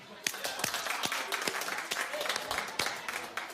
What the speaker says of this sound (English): Clap if you like it.